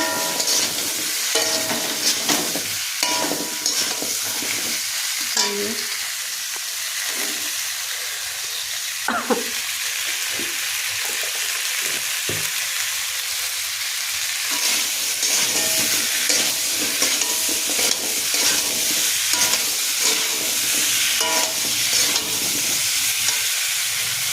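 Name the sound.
spices frying in oil and being stirred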